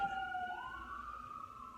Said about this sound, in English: It's fire engines, police, and ambulances.